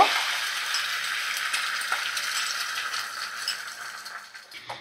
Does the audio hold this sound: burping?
no